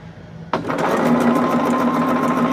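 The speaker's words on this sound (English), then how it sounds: "And I can just sit down and start sewing." A sewing machine starts abruptly and runs at a steady, fast buzzing clatter, stitching charm pack quilt fabric for a Morning Flower Patch quilt.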